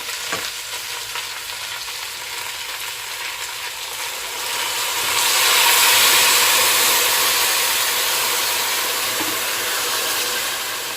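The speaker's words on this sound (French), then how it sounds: "Et je vais couvrir avec de l'eau que j'ai mis à bouillir." Boiling water pours over red lentils for a vegetarian soup, a steady hissing rush that swells midway and stays loud and close, with no talk.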